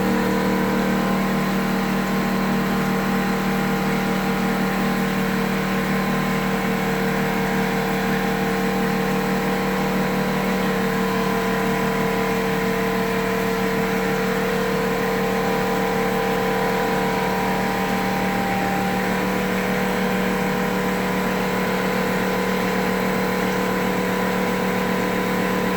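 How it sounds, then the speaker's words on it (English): An air compressor at a fish rescue tank room runs with a steady, droning mechanical hum, constant and unbroken throughout, with no voices. "That's the air compressor that he runs from."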